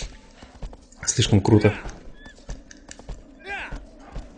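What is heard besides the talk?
horse galloping in video game Shadow of the Colossus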